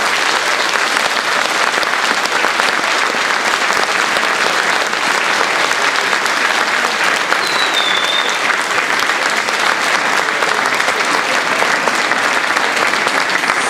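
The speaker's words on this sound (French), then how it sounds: "je voudrais que vous fassiez un applaudissement pour ces 600 personnes" A political meeting crowd at Le Chesnay breaks into loud, sustained applause. The dense clapping continues evenly for over ten seconds without a break.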